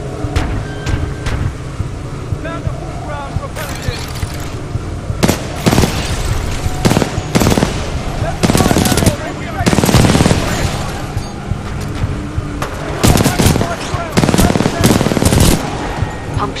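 Titanfall 2 campaign combat, mission Blood and Rust, with loud, dense bursts of automatic gunfire and booming impacts over a constant roaring din, the shots clustering in heavy volleys across the stretch.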